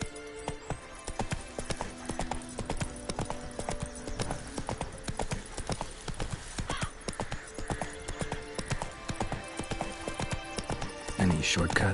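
A horse gallops in The Witcher III video game, its hooves clip-clopping in a steady rapid rhythm throughout, with an occasional whinny and background game ambience.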